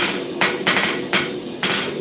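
A Foredom hammer handpiece strikes metal on a smithing bench in four distinct buzzing bursts spaced about half a second apart, close and loud against a steady hum.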